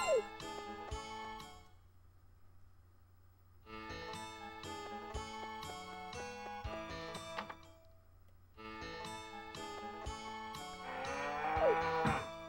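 Cartoonish cows moo repeatedly over a bright, plinking game melody in Harvest Moon 64, the lowing coming in several bursts across the clip.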